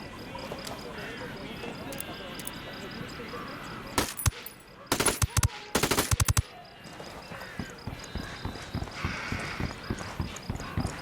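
Gunfire in Ghost Recon Wildlands, with a dense automatic burst of rapid shots in the middle, loud and close, over a steady bed of game ambience and footsteps, with scattered single reports after it.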